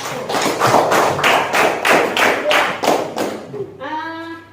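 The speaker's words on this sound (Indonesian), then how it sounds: "kita beri tepuk tangan untuk kelompok 1" A small classroom group claps in turn for the first presenting team, loud, uneven hand claps in a quick rhythm for about three and a half seconds, then it trails off and a sustained tone takes over near the end.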